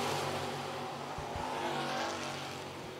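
Crate Sportsman race cars roar around turns three and four at Lancaster Motor Speedway. The engines make a dense, continuous drone as several cars battle, with brief thumps and a rising whine as they pass.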